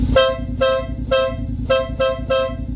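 A Denali horn fitted to a 2025 Honda X-ADV 750 motorcycle gives six short, evenly spaced toots with a clear tonal pitch, loud and near above a low idling engine rumble.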